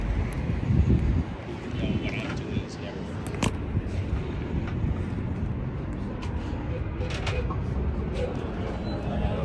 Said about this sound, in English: It's so windy. It's absolutely awful.